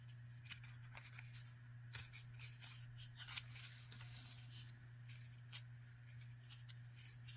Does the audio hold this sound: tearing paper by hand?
yes